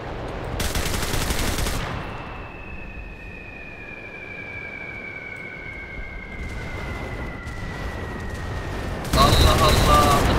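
Tank cannon fire striking the player in the World War II shooter Enlisted: loud blasts open and close the stretch, with a steady battlefield rumble and a whining tone between them.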